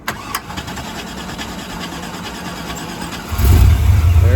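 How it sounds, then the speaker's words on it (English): A hot rod with straight pipes cold-starting at an October car show: after a few seconds of faint background, the engine catches abruptly and settles into a loud, deep, rumbling idle close by. "We're gonna try a cold start with this thing."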